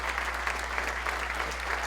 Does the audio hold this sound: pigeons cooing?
no